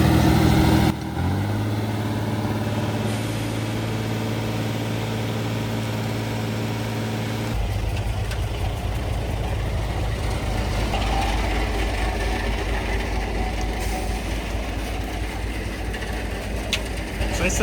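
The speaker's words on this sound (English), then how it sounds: "Now we're to a proper size concrete truck." A full-size concrete truck's diesel engine rumbles and idles up close, a loud continuous low drone with a tonal hum that shifts into a rougher, deeper churn partway through, with no talk over it.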